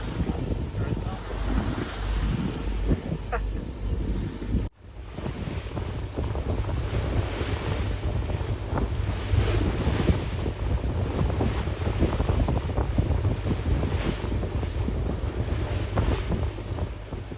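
Wind and waves roar steadily aboard a sailboat on the Baltic Sea. The gusty buffeting is briefly cut off by a sharp break, then the rushing continues strongly for the rest of the clip.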